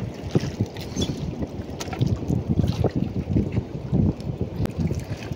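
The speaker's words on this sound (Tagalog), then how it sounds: "hindi marinig dahil sa lakas ng hangin" Strong gusting amihan wind buffets a phone microphone with a continuous rumbling roar, rising and falling in loud, close bursts.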